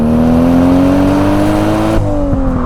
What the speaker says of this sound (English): Oh, the turbo noises!